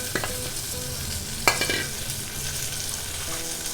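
Coconut fried in ghee is stirred into boiling jaggery for a sweet kozhukattai filling, giving a loud steady bubbling sizzle with scraping spoon strokes and one sharp clink of utensil on pan, no voices.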